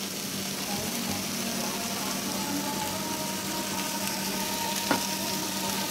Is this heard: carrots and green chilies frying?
yes